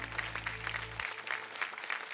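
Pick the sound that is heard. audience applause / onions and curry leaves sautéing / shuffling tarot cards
audience applause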